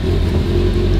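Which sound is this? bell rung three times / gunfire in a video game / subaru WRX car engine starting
subaru WRX car engine starting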